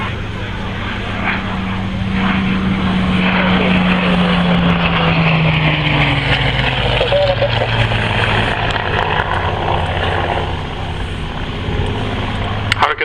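A Hawker Hurricane propeller fighter drones steadily as it flies toward the crowd at an airshow, its engine tone slowly dropping in pitch as it passes, with a commentator talking over it.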